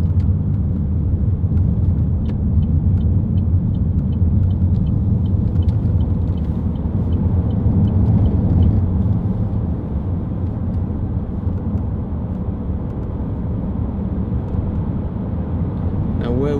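A 2011 Vauxhall Astra 2.0 CDTi ecoFLEX diesel drives steadily through a roundabout, its low engine and road rumble continuous from inside the cabin, easing slightly partway through, with a person talking over it.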